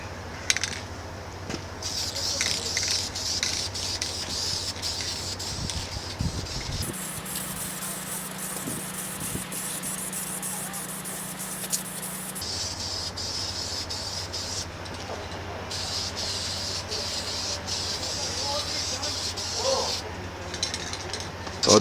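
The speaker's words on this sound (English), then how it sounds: "I'm just going to spray it around the bits where the bare metal is exposed" A spray can of VHT caliper paint hisses in sustained bursts onto bare metal spots of a steel wheel being made into a wood burner, the steady aerosol spray pausing briefly midway and then resuming.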